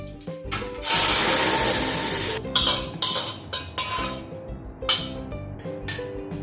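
Curry is poured into a dish holding curry leaves. A loud hiss swells for about a second and a half, then gives way to scattered clinks and knocks of metal utensils and pans close by.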